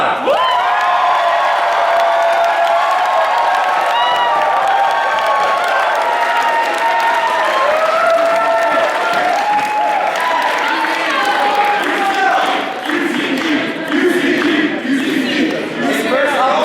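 An audience at the Trinity IV 2012 debate final breaks into loud, sustained applause and cheering, with whoops and shouts rising over the clapping throughout.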